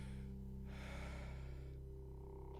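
A faint creepy breathing sound effect played on a livestream, with two slow, airy swells of breath over a steady low hum, no one speaking.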